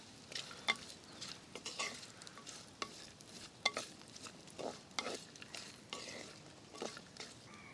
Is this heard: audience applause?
no